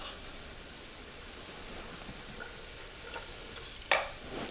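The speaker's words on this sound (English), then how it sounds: "Just saute it for about a minute." Garlic and leeks sauté in olive oil with a faint, steady sizzle and a single sharp click near the end, with no voices.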